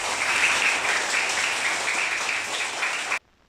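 A classroom of first-grade children clapping together for a classmate, dense steady applause for about three seconds that stops abruptly.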